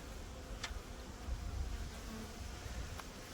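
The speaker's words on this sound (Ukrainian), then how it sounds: "От такі от бджоли, от такі от сім'ї" Honeybees buzz in a steady, faint drone, many insects humming together with a few closer passes flitting by, at an apiary in autumn.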